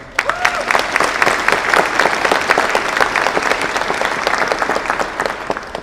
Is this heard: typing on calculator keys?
no